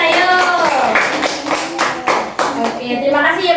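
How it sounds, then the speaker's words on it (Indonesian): Children in a primary school classroom clap their hands together during an Indonesian social studies lesson, irregular bursts of claps mixed with a teacher's voice and children's chatter, close and loud. "Tepuk tangan ayo."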